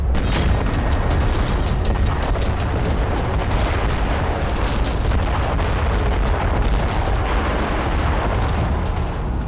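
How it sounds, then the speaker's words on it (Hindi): A bunker buster bomb explodes in an Israeli airstrike in Lebanon. The blast is a loud, continuous roaring rumble that holds steady for the whole stretch, with crackling bursts over the deep boom. "दावा है कि इजरायल का यह विस्फोट नसरल्ला पर हुए हमले से भी बड़ा और विध्वंसक था।"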